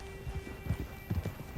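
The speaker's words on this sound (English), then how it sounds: "Just get on the horse when you're good and ready" Horse hooves in the western game Red Dead Redemption 2, a quick run of clip-clop steps at walking pace, close and distinct, with a faint whinny-like tone beneath.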